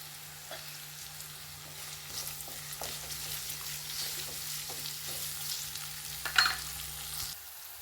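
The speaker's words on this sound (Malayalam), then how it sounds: "നന്നായി ഇളക്കി കൊടുക്കാം. കറിവേപ്പില ഇട്ട് കൊടുക്കാം." Beef fry with curry leaves is stirred in a pan, a soft steady sizzle with occasional spoon scrapes and taps, over a low background hum that cuts out near the end.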